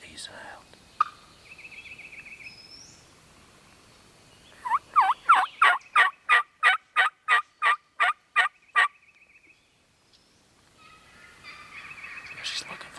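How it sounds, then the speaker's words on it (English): A wild gobbler in the Mississippi woods lets loose a rapid burst of about a dozen loud, rhythmic gobble notes, with soft whispering voices nearby before and after. "there's a gobbler right in front of you"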